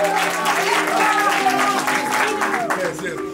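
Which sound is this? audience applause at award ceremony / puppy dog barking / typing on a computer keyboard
audience applause at award ceremony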